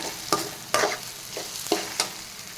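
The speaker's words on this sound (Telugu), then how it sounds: "ఈ ఆనియన్స్ ఫ్రై అవటానికి ఈజీగా 5 to 6 మినిట్స్ పడుతుందండి." Onions fry in oil in a pan over a medium flame, a soft steady sizzle broken by several scraping stirs of a spatula at irregular intervals, heard close with no talking.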